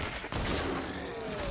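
Gunfire from a weapon in Fortnite's Save the World mode during a test of the Dragon's Roar, shown as a dense burst of shots over busy game noise.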